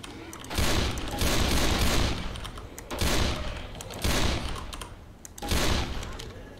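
Bursts of explosive-ammo gunfire ring out in Left 4 Dead 2, with four loud sustained volleys of dense, rapid shots separated by brief pauses.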